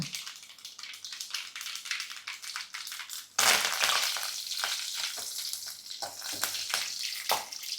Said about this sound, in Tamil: இந்த கருவேப்பில் பார்த்திங்கன்னா நம்ம அப்படியே எண்ணெயில் போட்டுடலாம்